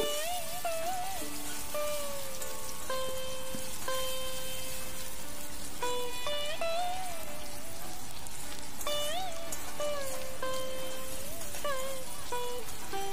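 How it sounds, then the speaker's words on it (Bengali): Chopped onion and garlic fry in a pan for a mustard-tomato tangra fish curry, giving a steady, close crackling sizzle over background music throughout. "এবার নেড়ে চেড়ে এগুলোকে একটু ভেজে নেব।"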